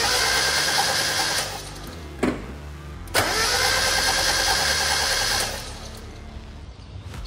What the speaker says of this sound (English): crank over the engine with no spark plugs in it